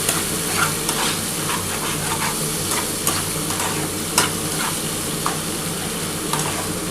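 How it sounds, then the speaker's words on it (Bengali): Mustard paste sautéed in hot oil for desi tangra fish in mustard gravy: a loud, dense, unbroken sizzle with occasional sharp spatula clicks. "এই যে সর্ষেটা দিয়ে দিলাম। ভালো করে কিন্তু কষাতে হবে"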